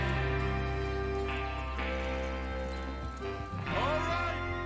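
Hooves clop over a droning musical bed, and a horse gives a short whinny near the end, in the video game Red Dead Redemption 2.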